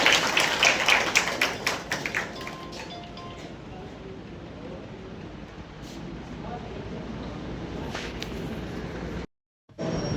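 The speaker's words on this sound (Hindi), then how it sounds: "तालियों के साथ स्वागत कीजिए।" An audience welcoming a guest with garlands claps briefly, a burst of scattered applause at the start that fades into a quiet room murmur.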